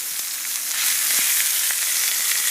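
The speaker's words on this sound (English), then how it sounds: "After it sears on that side a bit, you're going to want to take it and just flip it" Swordfish searing in hot oil in a pan: a loud, dense, close-up sizzle that stays steady throughout, with brief pops, and no voices.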